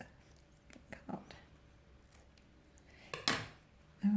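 Scissors snip thread during hand stitching of a pineapple quilt block: a short, crisp cut rings out near the end, faint and close, amid quiet handling rustles.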